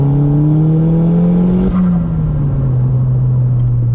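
A 2008 Seat Leon Cupra K1 with a stage 2 map and stock K04 turbo accelerates hard, its engine drone rising steadily in pitch, dipping briefly at a gear change, then climbing again, loud and close from inside the car.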